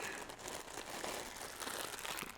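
Thin plastic wrap on the ear cups of Audio-Technica ATH-M20x studio headphones crinkles softly and continuously up close, quiet and steady with no talking.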